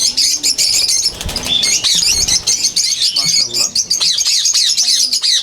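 Ringneck parrots chirp and squawk in a steady, busy chorus with bursts of wing flapping, close by on a parrot farm in Bangladesh, while a person speaks faintly underneath.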